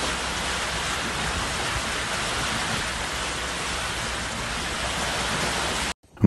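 Heavy rain pours steadily over Mecca in a powerful storm with strong winds, a dense, even hiss of downpour that holds constant throughout before cutting off abruptly at the very end.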